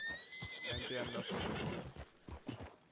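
A horse whinnies loudly at the start of a western ranch roleplay video game, its high neigh trailing off as hooves clop and shuffle close by, with no talking.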